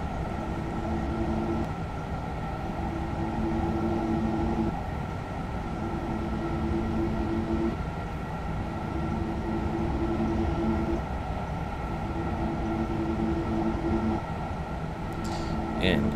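A KLM-liveried Thalys high-speed train running at 300 km/h on a high-speed line in Train Simulator 2020: a continuous rushing rumble with steady tonal hums that pulse in regular cycles, and a brief clatter near the end.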